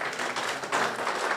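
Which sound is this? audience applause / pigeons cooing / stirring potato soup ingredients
audience applause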